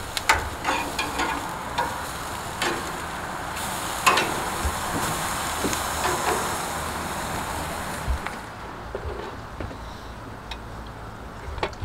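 Onion and brown sugar frying in a pan outdoors in a backyard, a steady sizzle with scattered stirring scrapes and ticks, moderately loud and close, fading quieter near the end.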